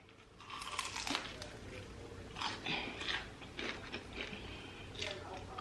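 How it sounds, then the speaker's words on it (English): Crisp, crackling crunches from biting into crispy Southern fried chicken, several bites with chewing in between, close and fairly quiet. "I know you heard that crunch."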